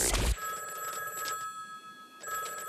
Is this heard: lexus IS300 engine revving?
no